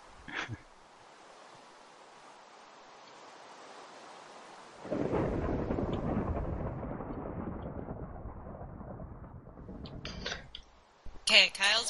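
Thunder from a lightning storm in Minecraft: a long, quiet rumble, then a louder crashing roll that slowly fades, with a few sharp clicks near the end.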